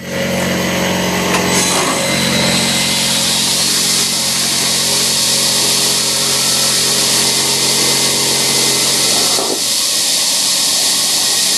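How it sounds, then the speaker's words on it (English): A horizontally mounted grinder runs loud and continuous in a shop, a broad steady hiss and roar grinding tabs off metal parts, with slight shifts in tone as pieces are pressed against it and no talking. "nice new grinder set up horizontal and show you how I grind them real quick"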